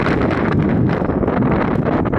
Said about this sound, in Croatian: A gle, vjetar puša